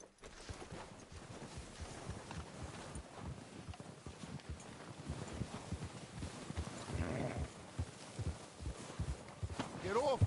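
In the Red Dead Redemption 2 video game, horse hooves clip-clop at a walking pace in an outdoor setting, fairly quiet and steady, with wind noise and characters talking over them.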